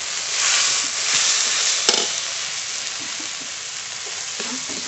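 Spice paste of ground coriander, cumin, dried chili, ginger, turmeric and salt fries with a little water in a pan, a steady close hiss and sizzle with soft stirring scrapes throughout.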